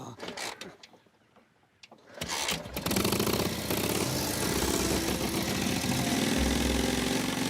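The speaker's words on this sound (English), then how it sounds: "Sounds like an old tractor." Old tractor engine starting up and running, a rough, steady mechanical chug that swells loud after a quieter lead-in and then holds a dense, continuous drone close by, with no talk in this stretch.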